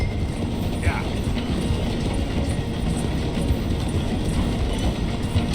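A slowing train in the Red Dead Redemption 2 game, a steady rumbling roll with faint rhythmic wheel clatter, continuous and fairly loud with nothing else standing out.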